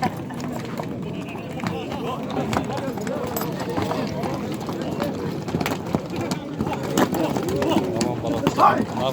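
Horse hooves clopping at the Uchkun livestock market, irregular thuds beneath steady talk from people nearby and a busy outdoor background.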